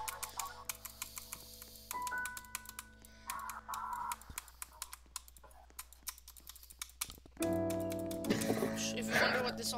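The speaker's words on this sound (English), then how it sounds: "If you wonder what all this keyboard sound is" Rapid, uneven clatter of computer keys being typed on, clicking steadily throughout with some faint tonal background sounds.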